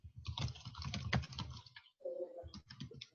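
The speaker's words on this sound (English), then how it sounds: "I was just typing this in, then I realized I'm not on mute." Close, quiet typing on a computer keyboard during an online meeting, fast bursts of keystrokes with a short pause midway and no talking.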